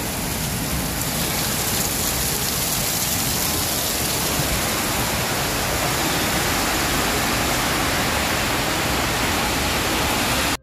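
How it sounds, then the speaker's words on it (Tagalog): Heavy rain roars steadily over a flooded stream, rushing floodwater beneath it, a dense, continuous wash of noise with no voices. "baha na po na mga sapa dire oh"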